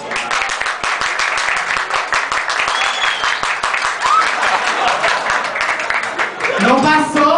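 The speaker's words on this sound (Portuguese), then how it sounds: "Aplausos para ela, Mapô." Lively audience applause at a drag vogue performance, dense rapid clapping from many hands that stays loud and even throughout, with a few cheers and a short vocal sound rising near the end.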